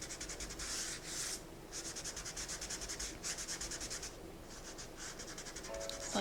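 A fingertip rubs soft pastel into paper on a beach chapel landscape drawing, making a quiet, steady scratchy rubbing in quick back-and-forth strokes, close and faint, with no talk.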